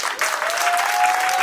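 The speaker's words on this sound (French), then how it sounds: "Applaudissons pour le Gabon." Wedding guests at a customary wedding ceremony break into loud, dense applause that holds steady throughout, with a thin sustained whistle-like tone running through the middle.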